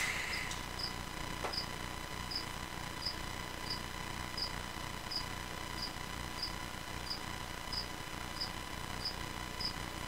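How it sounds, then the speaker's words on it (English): Real crickets chirp steadily indoors, an even, regular pulse of faint high chirps repeating about every second over a constant background hiss, with no talk. "Those are real crickets, by the way."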